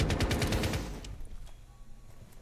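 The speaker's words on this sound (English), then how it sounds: "I don't know where I just got shot from" Gunfire in the video game Rainbow Six Siege, a rapid burst of automatic shots at moderate loudness that fades out into quieter game ambience after about a second.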